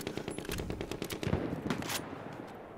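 Rapid automatic gunfire crackles in a Battlefield 1 Conquest match, dense bursts of shots with a few louder cracks, steady and continuous throughout.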